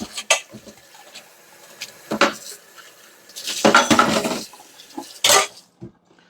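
Dishes are rinsed under water in a kitchen, with clattering pots, pans and cutlery in several short bursts and brief gushes of running water between quieter pauses.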